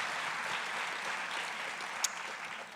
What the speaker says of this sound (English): give Jessica a huge round of applause